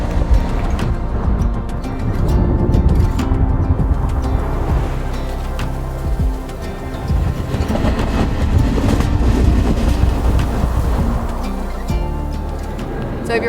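A train ride in Lisbon heard from inside the carriage, with a loud continuous rumble and rattling clickety-clack over the rails, sporadic squeaks and bird-like chirps, steady throughout.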